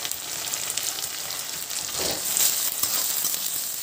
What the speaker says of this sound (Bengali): মশলাটাকে একটু ভাজা ভাজা হতে দিচ্ছি